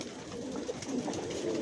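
Racing pigeons coo in a loft, a soft continuous murmur of overlapping low calls close to the listener, with no talking.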